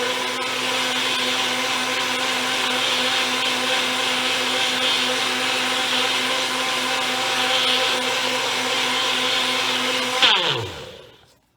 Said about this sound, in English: So all you gotta do is place your melon in the blender.